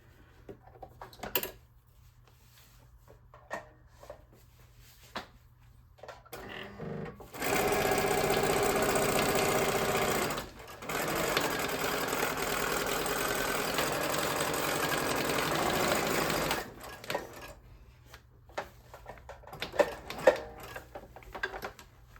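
A sewing machine stitches a junk journal cover in two long runs with a short pause between them. Quiet handling clicks and rustles come before and after, and no one talks.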